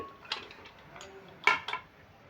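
A metal pressure cooker is picked up and set down, making a few light clanks and taps, the loudest pair coming close together near the end, with a soft voice faintly in the background.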